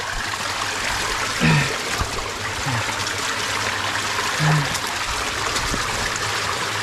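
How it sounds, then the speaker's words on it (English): Water flows steadily through a cave that is filling up, a constant close rushing and trickling with a few brief gurgles and no voices. "I got water flowing through here"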